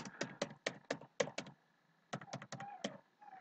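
Quick bursts of typing on a computer keyboard in a word processor, clustered keystrokes in two runs with a short pause between, close and clear.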